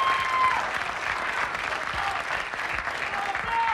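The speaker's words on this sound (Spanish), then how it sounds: "Otra vez, aplauso para Francisco." Audience applauding at an acoustic music show, a continuous mid-level patter of many hands clapping at a steady volume from start to finish.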